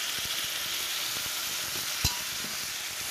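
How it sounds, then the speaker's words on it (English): Carrots, celery and onion mirepoix sizzle steadily in a hot pan while being stirred, with a soft clink of a utensil midway. "Now I'm adding in the mirepoix, which is basically carrots, celery, and a little onion."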